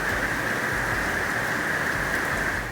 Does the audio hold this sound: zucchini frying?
no